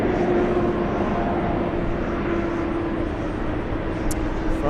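A TAP airliner on a flight from Lisbon, Portugal, gives off a steady, fairly loud jet rumble with a constant hum throughout.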